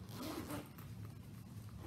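A zipper drawn closed on a large travel toiletry cosmetic bag, a quick close rasping run heard alone at low level.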